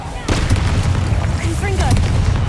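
Confringo fire-blast spell bursting in Hogwarts Legacy amid a combat scene: a sudden booming impact followed by crackling sustained rumble with magical whooshes and chirps layered over it, loud and close.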